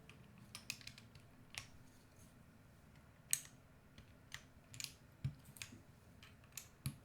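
Typing on a LAZYDESIGNERS Duo60 keyboard, a string of scattered, crisp key clacks with irregular rhythm, some louder strikes standing out against a quiet room.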